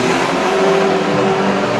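Ford Granada banger racing cars at Mildenhall revving hard on the track, a loud, steady engine roar that fills the whole stretch without a break.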